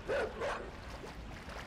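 A dog in the video game INSIDE barks twice in quick succession, moderately distant, followed by low ambient game sound.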